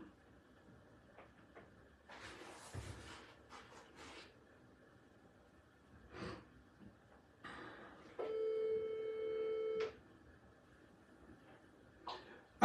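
A telephone rings with an incoming call, a single steady electronic tone held for about two seconds in a quiet room, preceded by faint scattered handling noises and soft sounds.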